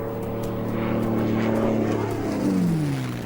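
A propeller airplane flies over the vast red desert of central Australia, its droning engine hum steady and fairly loud, with the pitch sliding lower near the end as it passes.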